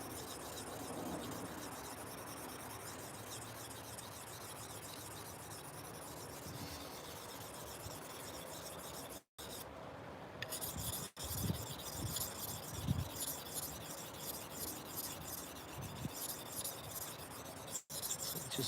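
A knife blade is drawn repeatedly across a 400 grit whetstone, producing a steady, gritty rasping that continues throughout, close and fairly quiet, with a brief break partway through.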